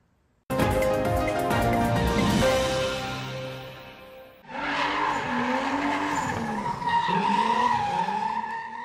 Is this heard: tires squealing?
yes